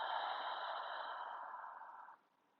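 A slow, steady exhale during three-part dirgha pranayama breathing, heard up close as a soft breathy hiss that fades out after about two seconds into near silence.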